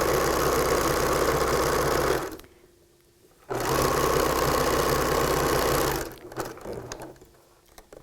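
A sewing machine stitches T-shirt quilt blocks in steady, close bursts of whirring, running about two seconds, pausing briefly, then running again for a few seconds before trailing off.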